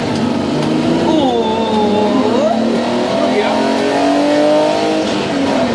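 A rally car at the Rydułtowska Barbórka 2014 rally revs loudly and close, its engine note climbing and falling through gear changes with a brief tire squeal, while people talk excitedly over it.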